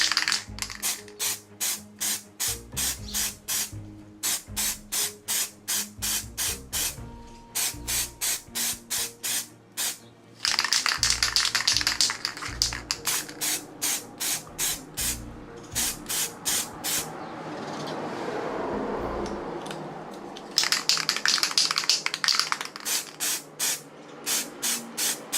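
Short bursts of spray paint apply grey undercoat to a moisture vaporator prop held on with adhesive putty, hissing in regular rapid pulses, with a few longer continuous sprays, close and fairly loud with no talk.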